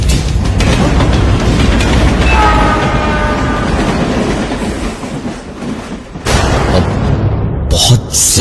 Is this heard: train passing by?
yes